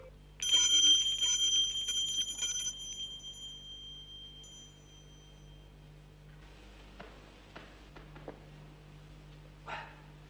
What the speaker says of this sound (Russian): кто-то с силой дернул дверной колокольчик